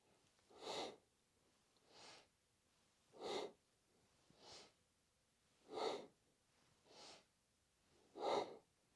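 Fast yoga breathing exercise: seven distinct breaths, alternating forceful inhales and exhales at an even pace about every second and a quarter, close and fairly soft, with no talking.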